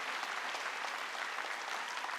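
A church congregation at a Korean Sunday worship service claps together in steady, dense applause throughout.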